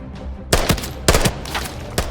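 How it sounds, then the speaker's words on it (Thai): Bursts of rapid gunfire from AK rifles and other guns crackle in short volleys in the game Arena Breakout: Infinite, three or four loud automatic bursts separated by brief pauses, with a dense, game-like background. "ตอนนี้เสียงปืนที่คิดได้ยินเนี่ย มีทั้งปืน AK H4 T951 T03 เนี่ยมาครบเลยครั"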